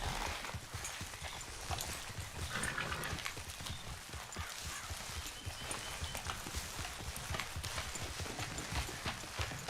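Horse hooves clip-clop steadily in the video game Red Dead Redemption 2, a continuous rhythmic trotting under ambient game noise for the whole stretch, with no talk.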